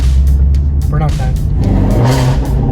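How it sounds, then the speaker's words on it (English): A Ford Mustang 5.0 revs hard during a burnout, its engine roaring loud and steady for a few seconds with the pitch climbing and dipping as the throttle is worked. "Burnout time."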